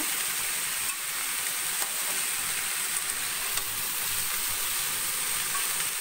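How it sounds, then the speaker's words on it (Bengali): Steady, dense sizzling of pointed gourd frying in a hot pan, constant and fairly loud throughout with no talking. "এটাকে আমি ভাজা ভাজা করে নেব"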